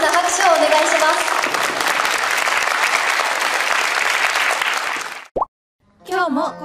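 A school hall audience at a culture festival applauds loudly and steadily after a Japanese taiko drum club's performance, the dense clapping filling about five seconds before cutting off abruptly, followed by a short tone and a brief spoken phrase.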